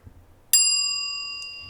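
A single bright bell strike rings out once, then its clear tone decays slowly into quiet, heard alone.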